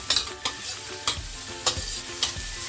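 Garlic sizzles in a hot pan for a bitter melon stir-fry, with a spatula scraping and stirring in regular, sharp strokes over a steady frying hiss.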